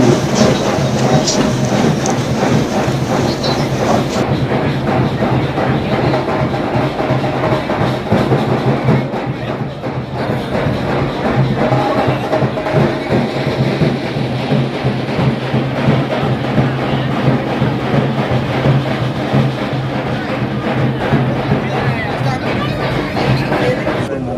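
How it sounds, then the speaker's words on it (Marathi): A Vande Bharat Express train on the Nanded to Mumbai route rumbles steadily with continuous rail noise and a crowd murmur, while people talk throughout. "वंदे भारतचा शुभारंभ आज मुख्यमंत्री फडणवीस साहेबांच्या हस्ते झालेला आहे"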